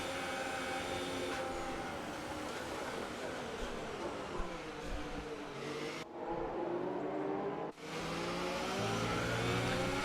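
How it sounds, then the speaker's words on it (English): Formula 1 car engines in the game F1 2019 at the German Grand Prix whine and rev continuously, pitch sweeping up and down as cars pass, with a brief dropout near the end. "cars don't sound that great, but they sound accurate"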